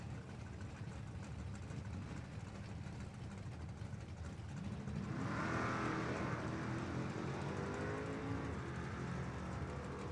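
Drag racing cars, a Datsun and a Trans Am, rumble at the strip from a distance, the engine roar swelling partway through, with no talk.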